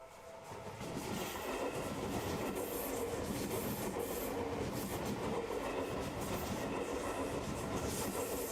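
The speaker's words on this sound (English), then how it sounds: "The train slides into the platform on the opposite side as my ears pick up the distorted grating sound of its brakes." A train in the game Ghostpia rolls into a station platform, a loud steady rumble of wheels and grating, distorted brake noise filling the whole stretch without let-up.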